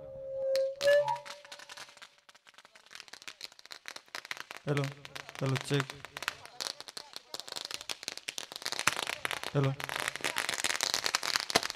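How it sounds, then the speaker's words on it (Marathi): Firecrackers and fireworks burst at the opening of a cricket tournament in Chindhran, Panvel, their crackling growing dense and continuous toward the end, while a man does a microphone check early on. "फटाक्यांची आतषबाजी पाहायला मिळते आणि फटाक्यांच्या आतषबाजीनं स्पर्धेची दमदार सुरुवात"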